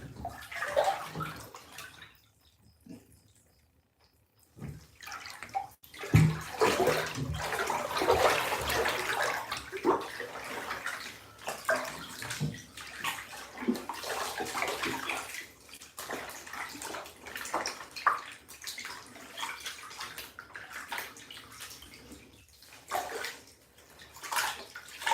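Water splashing and pouring in a bathtub while hair is rinsed, with sloshing and running water close by, a brief quiet pause early on, then continuous uneven splashes.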